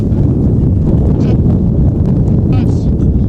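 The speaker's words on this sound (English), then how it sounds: "trying to get the ship a little bit steadier in these very blustery and windy conditions" Strong gusting wind buffets the microphone during a Melrose versus Selkirk Border League rugby match, a loud continuous roar running throughout, while a commentator speaks over it.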